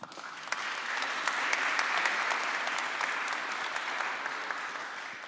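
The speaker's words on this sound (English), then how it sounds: "Let's welcome the ambassador with applause." An audience at a university anniversary ceremony breaks into steady applause welcoming an ambassador, a dense sustained clapping from a crowd in a hall that holds evenly throughout.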